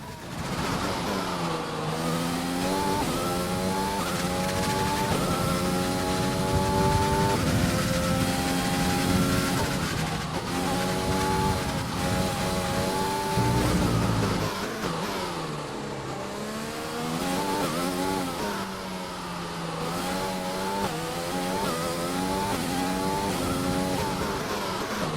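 A Formula 1 car lapping in F1 2020 gives a loud, close engine whine that climbs in pitch and drops with each gear change, steady and alone through the whole stretch.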